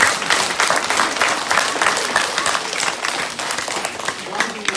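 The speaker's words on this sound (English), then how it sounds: "can we give everyone here a round of applause?" An audience at a school awards ceremony applauds loudly in a dense, continuous round of clapping from a large crowd, with voices mixed in.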